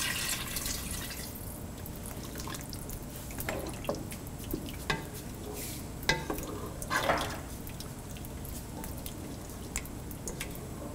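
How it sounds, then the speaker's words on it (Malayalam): Water goes into a pot of moringa leaf curry and is stirred in, giving quiet liquid sloshing, drips and scattered light clinks of a spoon against the vessel, soft and close, with a low background hum. "ഇതിലോട്ട് നമ്മൾ എടുത്തു വച്ചിരിക്കുന്ന 2 കപ്പ് വെള്ളം ആഡ് ചെയ്ത് നന്നായിട്ട് മിക്സ് ചെയ്യുക."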